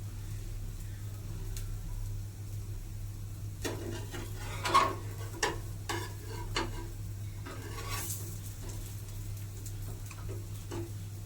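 Green chillies fry in a pan for chutney, giving a soft, steady sizzle broken by scattered light taps and stirring clicks at moderate distance, with faint voices in the background.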